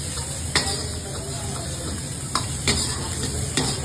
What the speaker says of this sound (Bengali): আর অ্যাড করবো জিঞ্জার গার্লিক চপ আর কাঁচা লঙ্কা। হালকা সতে করে নেব।